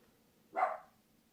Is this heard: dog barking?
yes